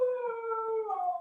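A husky dog howls nearby in one sustained, wavering tone that dips in pitch partway through, clear and alone without talk.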